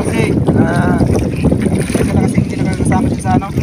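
Strong wind buffets a fishing boat at sea, a steady roaring rush with flapping gusts throughout, while people talk over it.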